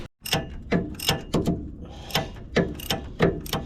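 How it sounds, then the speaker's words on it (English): Breaker bar ratcheting and clicking in short repeated bursts on a stubborn wheel hub bolt of a 2014 Chevy Express 1500, close and sharp with brief pauses between strokes. "so I gotta keep messing with it with the breaker bar because wow"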